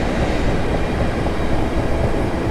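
An electric train on the Portsmouth Direct Line near Wimbledon in Train Simulator 2018 pulls away hard, a loud, steady rumble of motors and rolling wheels close by with no voices.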